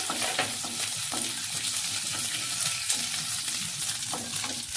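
Whole mustard seeds fry in hot oil for coconut chutney, giving a steady close crackling sizzle throughout with a few louder pops and spatters, no voices.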